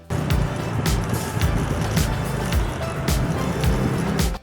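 A Motur Trimax Quickfold electric scooter rides in third gear along a highway, with a continuous rolling drone and road rumble, steady and close, broken by repeated bumps from the road surface.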